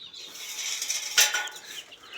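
Chickens cluck softly nearby in a short, busy burst on a poultry farm, with one sharper sound in the middle.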